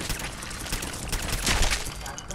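Turret gunfire in Fallout 4, a dense rapid fusillade of shots crackling continuously at close range, with a brighter burst of impacts midway and no pause.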